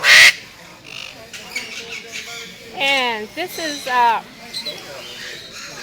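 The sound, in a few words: alexandrine parakeet squawking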